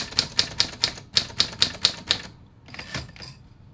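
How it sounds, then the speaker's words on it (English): Quick run of about ten crisp mechanical keystrikes on a 1940s Smith Corona Silent manual portable typewriter, evenly spaced and close, then a softer carriage shuffle and a few fainter clacks as it trails off. "I'll type some stuff out. This is Smith Corona model number 4S114018."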